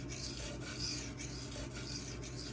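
Knife steel rasped steadily back and forth across a fast-cutting 600 grit Suehiro Debado whetstone, soft close scraping strokes in a regular rhythm, no voices.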